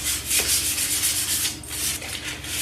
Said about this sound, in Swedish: jag fortsätter slipa bort det här nu då